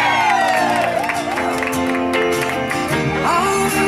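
A crowd cheers and claps loudly over a bright, steady music bed, with whoops and shouts mixed in throughout.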